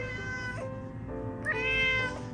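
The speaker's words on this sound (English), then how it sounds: "The cats wake me up before the sun" Cats meow at dawn, two drawn-out tonal meows separated by a short gap, close and fairly loud over faint background noise.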